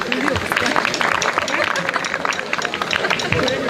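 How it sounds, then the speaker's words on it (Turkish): A crowd applauds the musicians on stage at an outdoor park opening ceremony, with dense steady clapping mixed with crowd voices throughout. "O yüzden biz sahnedeki müzisyen arkadaşlarımıza sizleri bir alkışlamak istiyoruz."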